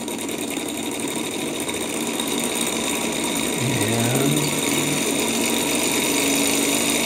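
A Stirling engine turning a propeller runs at idle with a steady, continuous mechanical whir and buzz. A lower tone slides briefly partway through.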